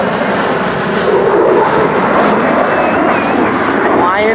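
An F-18 Growler jet flies past slowly on approach to land, without afterburner, making a loud, broad, sustained engine roar with a rising whine, as people talk nearby.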